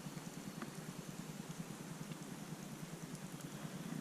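Steady rain patters outdoors around an angler fishing muddy, windless water, a dense even hiss with scattered droplet taps and a low hum underneath, no voices.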